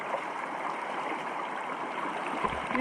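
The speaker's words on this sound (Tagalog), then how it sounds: "Lakas ng agos sa tubig" Strong river current after a landslide in Barangay Kantagnos rushes continuously, a steady broadband roar of moving water at even loudness with no speech.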